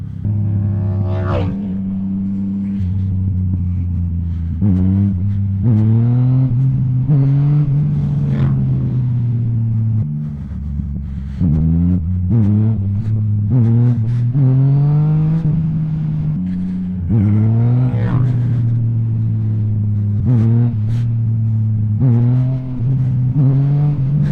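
Yamaha MT-09 motorcycle engine revving hard during a wheelie attempt, loud and close, rising and falling in repeated throttle bursts across the whole stretch.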